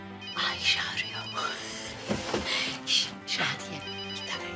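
A mobile phone rings with a repeating electronic ringtone pattern, heard under overlapping background music and voices in a dramatic indoor scene.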